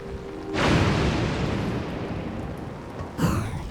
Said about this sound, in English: Oh, the lightning actually took it down.